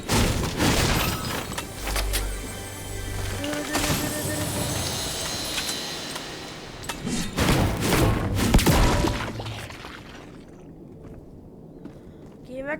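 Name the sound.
gunfire in Fortnite video game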